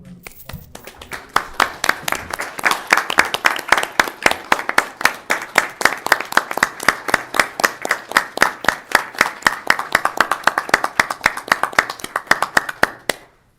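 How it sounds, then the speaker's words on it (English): Applause from the audience at a county board of supervisors meeting, a steady run of sharp, distinct hand claps at a brisk even rhythm that lasts about thirteen seconds and stops abruptly, with no talk over it. "Let's give them a round of applause."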